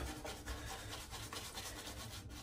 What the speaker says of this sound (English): The head shave technique of lather is just smash the brush on your head until thickness appears